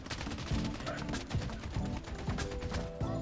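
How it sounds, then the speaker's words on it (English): Gunfire in the Project Bloodstrike mobile shooter game: rapid, repeated shots in steady bursts throughout, loud and close, mixed with mechanical clatter and other game sounds. "I am hearing gunshots as well"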